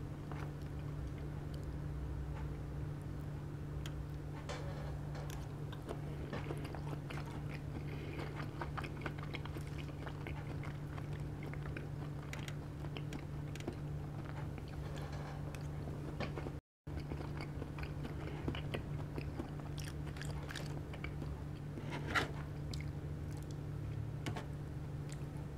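Someone chews Japanese food, salmon sashimi over rice, up close, giving soft, quiet, wet bites and mastication over a steady low background hum.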